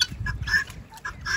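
Guinea fowl in a rain-flooded coop give a short series of close, loud, harsh calls in quick, uneven bursts lasting a little over a second.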